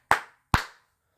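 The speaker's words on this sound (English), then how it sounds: "the first thing we're going to do is clap 3 times" Sharp hand claps, only two of them, well separated and crisp in a quiet room, each ringing briefly before silence.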